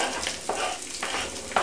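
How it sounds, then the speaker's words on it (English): Grated ginger and garlic frying in a hot pan, a dense close sizzle with soft stirring scrapes pulsing through it. "you want to add your grated ginger, you hear that sizzling"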